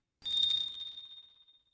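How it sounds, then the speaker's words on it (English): A single clear bell rings as a character steps through a doorway in the Utawarerumono: Mask of Truth visual novel, with a bright struck tone that rings on and slowly fades out, heard alone. "their entrance accompanied by the clear ringing of a bell"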